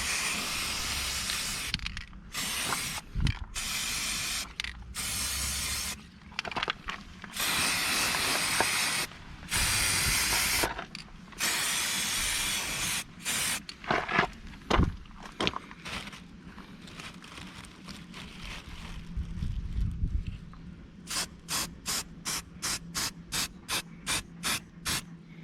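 An aerosol can sprays paint onto the rear brake caliper of a Peugeot 407 in repeated hissing bursts broken by short pauses, ending with a quick run of rapid rattling shakes of the can.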